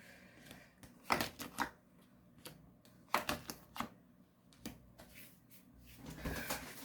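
Tarot cards being shuffled and drawn by hand on a table, with short papery riffles and flicks in uneven bursts, close and quiet, separated by brief pauses.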